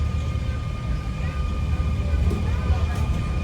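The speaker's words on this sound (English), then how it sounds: "as the train's about to come down this next wall here" The Bronx Zoo monorail train moving along its track makes a steady, low rumbling drone that holds evenly throughout, with a few faint clicks on top.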